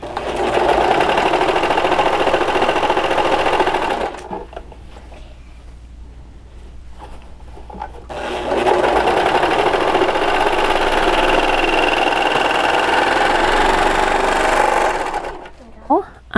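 A serger runs in two long, loud, steady bursts while stitching and trimming the seam of a fabric face mask made from two pieces placed right sides together, with a quieter pause between the bursts.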